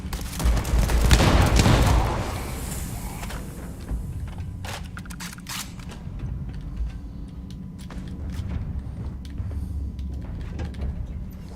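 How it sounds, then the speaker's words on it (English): A shotgun firing in the video game Starfield: one loud, heavy blast near the start that booms and fades, followed by scattered quieter clacks and game sounds. "A shotgun with the aesthetics of an Apple Store branded nail gun"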